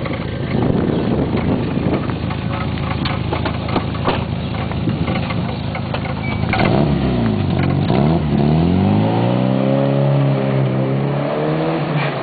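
A Volkswagen Golf's engine revs loudly nearby, rising and falling through several sweeping pulls before dropping back, with no talk over it.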